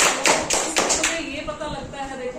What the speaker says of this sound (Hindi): तो सबसे पहले अपने लिए तालियां बजाइएगा